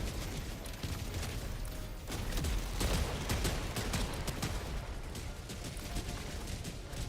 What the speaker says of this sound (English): I'm going deaf because of all the explosions happening.